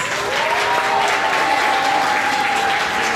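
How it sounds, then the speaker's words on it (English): Kindergarten scholars at an elementary school graduation ceremony clap for their parents, a dense, steady burst of applause from a crowd filling the room. "Scholars, please give a big round of applause for your parents."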